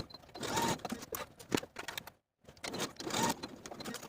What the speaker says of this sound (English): Now I'm going to sew the bottom of the facing to the bottom of the jacket with a 1 inch seam allowance